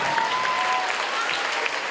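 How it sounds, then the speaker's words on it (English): An audience at a Christmas cheer charity event applauds warmly, a continuous roll of many hands clapping, moderately loud and steady, with a faint tone lingering early on. "A very, very big round of applause for her."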